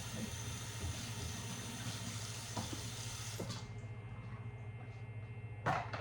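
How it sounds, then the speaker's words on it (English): A birthday candle is rinsed under a running kitchen tap, with water rushing steadily close by, a low hum beneath it and a few light knocks before the flow thins. "I'm washing a candle."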